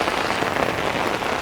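Steady rain pours down, a loud, even hiss of drops hitting surfaces that continues without a break and has no voices over it.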